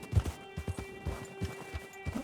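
Horse hooves clip-clopping along a mountain trail in Red Dead Redemption 2, a steady rhythm of distinct thuds over a low continuous game hum, fairly close and moderate in level.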